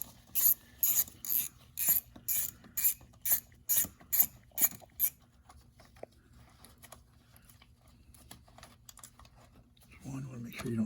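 A ratchet with a small 8 mm socket backs out screws on an Infiniti mass airflow sensor, a rapid series of about a dozen crisp close clicks followed by quieter scraping and handling noise.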